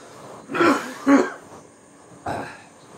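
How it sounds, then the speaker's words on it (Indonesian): A man coughs in a radio drama reading: three short, close, rough bursts, two in quick succession and one after a brief pause, with no other talk. "Dia batuk-batuk"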